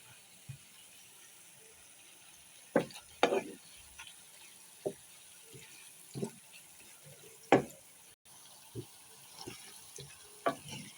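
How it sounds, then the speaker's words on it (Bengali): Ingredients for shrimp balachao fry slowly in a pan with a little salt, cooked down until browned and crisp: a steady low sizzle with scattered scrapes and clicks of stirring, no talking. "এই জন্য তো আমাকে একটু সময় নিয়ে ভাজতেই হবে।"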